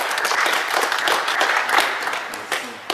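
At a youth football tournament team draw, a crowd gives a steady round of applause for a newly named player, dense clapping that tapers slightly near the end.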